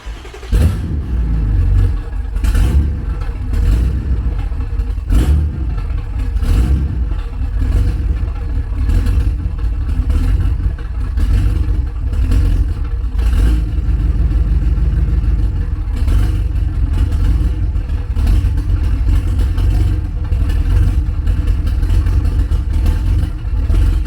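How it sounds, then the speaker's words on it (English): Car engine idling and revving while warming up before being readied for a tow truck, a steady loud low rumble with repeated throttle blips throughout and no talking. "get the car crunked, get her warmed up a little so we can get her ready for the tow truck"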